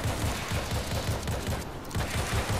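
Rapid automatic gunfire from players shooting zombies in World War Z, a dense, steady stream of shots in quick rhythmic bursts, loud and close with no talking.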